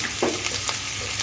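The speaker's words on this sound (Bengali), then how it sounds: "এখন আমি রসুন কুচিটা দিয়ে দিচ্ছি, একটু নাড়িয়ে নিচ্ছি।" Chopped garlic and ginger frying in hot oil on a medium flame, a steady close sizzle with a few brief bursts as the pieces are stirred, no voices.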